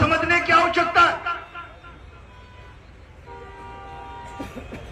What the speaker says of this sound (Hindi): भैया ये गाड़ी वाले हॉर्न जो दे रहे हैं वो बंद कर दे प्लीज